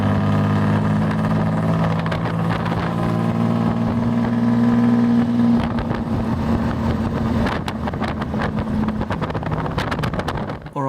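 An old car with no synchromesh gearbox, its engine running steadily with a droning hum, then gear changes with a rising rev and rough, buffeting wind noise, loud and close throughout.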